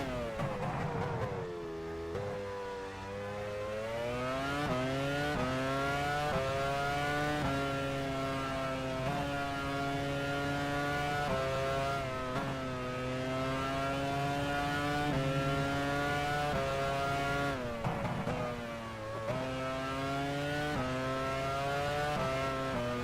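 Formula One car engine from the F1 Challenge 99-02 racing game on an out lap at the 2001 Malaysian Grand Prix, revving up through gears with repeated shifts and sustained loud whine, no voices.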